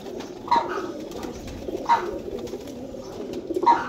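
A domestic pigeon coos three times at a regular interval, each call a short, close, soft throaty note standing out over a low background murmur.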